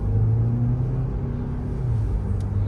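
A 2023 Ford Escape with a 2-litre turbocharged EcoBoost engine pulls away under moderate throttle. A low, steady engine drone and road rumble are heard from inside the cabin.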